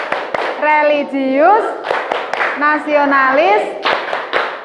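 Group of children chanting words in unison, punctuated by sharp rhythmic claps of the tepuk PPK routine, with loud voices dominating and the claps breaking in between the chanted phrases.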